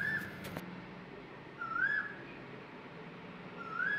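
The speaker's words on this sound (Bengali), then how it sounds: "তোমাদেরকে একটু কোকিলের ডাকটা শুনে দিই" An Asian koel calls with rising whistled notes, faint and distant, heard twice with quiet gaps between and a brief click near the start.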